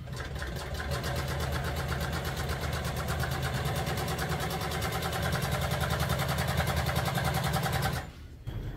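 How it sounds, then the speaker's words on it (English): A sewing machine stitches old truck seat upholstery in a fast, steady, close mechanical chatter that runs continuously before stopping abruptly near the end. "lock your stitch, put everything where it belongs, and then just start sewing"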